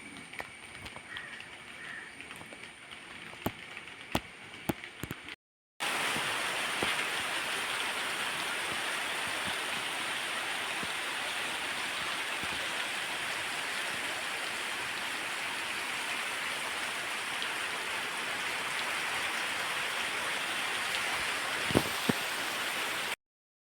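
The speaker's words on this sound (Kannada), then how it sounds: "ಸ್ವಲ್ಪ ಸ್ವಲ್ಪ ಹನಿತಾ ಉಂಟು, ಅಂತ ಜೋರು ಮಳೆ ಅಲ್ಲ" Light rain drizzling outdoors on a farm, a soft continuous patter and hiss heard alone at low level, with a few faint knocks early on.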